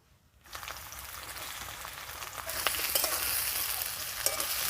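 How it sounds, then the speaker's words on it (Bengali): Chopped onion dropped into hot mustard oil for a spicy chicken dish, bursting into a loud, steady sizzle that builds and stays bright and hissing throughout, close up with no talk. "তেল গরম হয়ে গেছে এবার তেলের মধ্যে পেঁয়াজ কুচিয়ে রাখা দিয়ে দেব"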